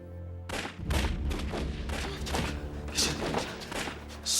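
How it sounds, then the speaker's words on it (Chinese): Repeated gunshots crack out in an irregular volley, sharp thuds and bangs following one another for several seconds, sounding somewhat distant with no talk over them. "这枪声是为做远的所在传来"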